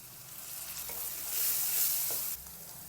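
Tomato goes into a pan of frying onion and capsicum, and the steady sizzle rises into a louder hissing burst before settling back, with a few light stirring scrapes and no voices.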